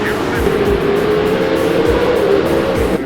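Pro 2 off-road race trucks roar off the start together, a loud sustained engine drone with revving surges, with a commentator's voice over the top.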